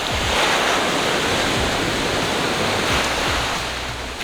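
Ocean waves on Intendance beach, Mahé, in the Seychelles, make a continuous loud rushing roar of surf with a windy hiss, steady and close throughout.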